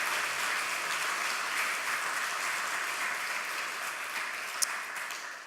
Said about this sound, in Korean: 한번 박수로 격려해 주시면